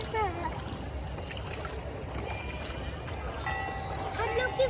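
A boat glides across Nainital lake in Uttarakhand, with a steady wash of water and motor hum running through the whole ride while people chat aboard.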